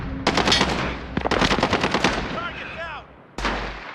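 Rapid automatic gunfire from Call of Duty: Warzone, loud bursts of shots with short breaks in between and a brief sweep of whistling tones near the end.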